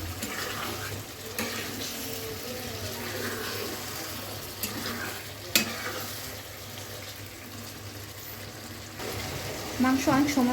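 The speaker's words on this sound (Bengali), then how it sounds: "এখন আমি এই মাংসগুলো দিয়ে দিব" Pigeon meat stir-frying in a pan, with a steady close sizzle and occasional utensil knocks, while a person talks throughout.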